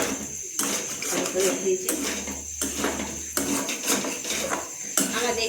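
Potatoes frying and being stirred in a pan, with repeated metallic scraping and clattering of a spatula against cookware, close, as a voice speaks briefly.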